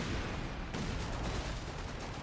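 Gunfire and heavy explosive booms from a Company of Heroes 3 battle, with a 6-pounder anti-tank gun firing as part of a dense, loud, continuous barrage that sharpens into a strong impact partway through.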